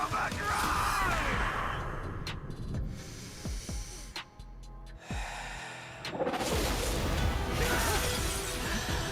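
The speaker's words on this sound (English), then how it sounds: "he shattered the sword" A sword shattering in an animated battle: a loud burst of crashing, breaking debris, then sharp scattered impacts and a brief lull before a heavy rumbling surge returns.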